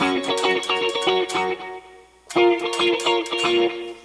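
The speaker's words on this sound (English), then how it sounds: "I've got my chorus, my stereo chorus, set really wide with some reverb" Clean electric guitar chords ring out wide and shimmering with a chorus effect and reverb tail, a brief pause, then strumming resumes.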